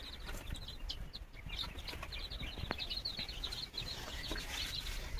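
Chicks on a poultry farm peep constantly in high, rapid chirps, many overlapping at once, over a steady low background hum.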